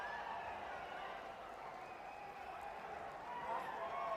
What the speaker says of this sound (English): the crowd give a big round of applause